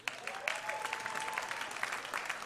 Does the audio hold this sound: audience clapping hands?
yes